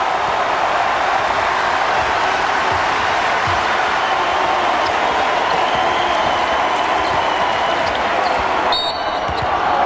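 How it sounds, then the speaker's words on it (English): Dense, roaring crowd noise fills a college basketball arena during a Duke versus Maryland game as fans rise to their feet, a loud sustained wash of cheering with no clear breaks. "Jay Heaps gets the crowd on their feet"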